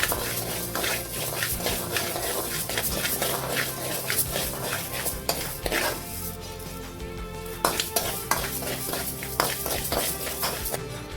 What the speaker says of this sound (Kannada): ಎರಡನ್ನು ಕೂಡ ಒಟ್ಟಿಗೆ ಸೇರಿಸಿ ಫ್ರೈ ಮಾಡ್ತೇನೆ